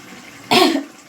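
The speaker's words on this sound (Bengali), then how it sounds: "ঝাঁসটা নাকের মধ্যে ঢুকে গেছে কাশি আসছে" A single sharp, close cough bursts out in a kitchen, triggered by pungent fumes from cooking, then trails off into quiet.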